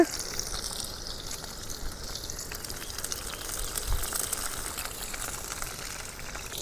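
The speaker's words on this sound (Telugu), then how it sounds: "తర్వాత పచ్చిమిర్చి టమాటో కూడా వేసుకోవాలి కాసేపు బాగా వేగాలి" Green chillies and tomatoes frying in a pan for crab curry give off a steady, hissing sizzle that holds at an even, moderate level throughout without any talking.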